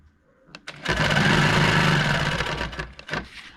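A sewing machine runs steady free-motion quilting stitches guided by a quilting ruler, a close, continuous motorized whir lasting about two seconds, with a few brief taps before and after.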